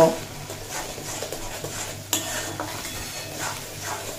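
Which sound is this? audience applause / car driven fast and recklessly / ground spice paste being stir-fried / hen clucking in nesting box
ground spice paste being stir-fried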